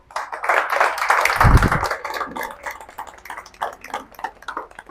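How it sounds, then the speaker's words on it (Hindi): A crowd claps loudly to welcome Ravita Prajapati onto the stage at an Emerald Ranks cake event in Pindra, Varanasi. Dense clapping swells and peaks with a low thump midway, then thins into scattered claps. "जोरदार तालियों से स्वागत करते हैं।"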